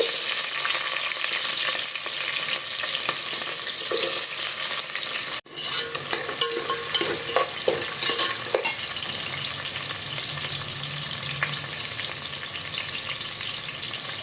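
Onion crackles in hot oil with cumin and mustard seeds, a dense, loud sizzle sustained throughout, with a brief drop midway and scattered scraping stirs and popping seeds close by.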